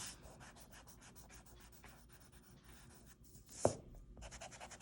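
Pencil shading strokes on paper for a value-scale cone drawing, a steady run of soft scratchy rubbing strokes in close-up, with one sharper tap partway through and no talking.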